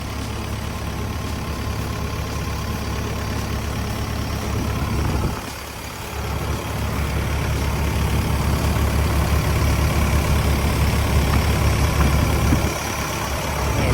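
A 12-ton Hitachi ZX120-3 excavator's diesel engine idles steadily up close, a continuous low rumble with a brief dip midway and a slight rise afterward, with no voices over it.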